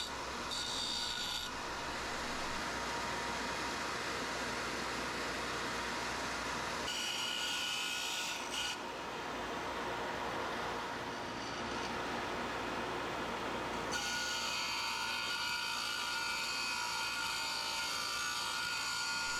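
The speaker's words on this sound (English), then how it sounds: "I'm running them up against the disc sander and the belt sander" Disc sander and belt sander grinding small aluminum pieces for a whippletree build, a steady continuous abrasive whine with shifts in pitch as the metal is pressed on and lifted off, close and loud.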